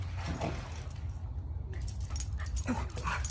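A dog whines and whimpers in soft, high yips, close by, with a low rumble of background noise underneath.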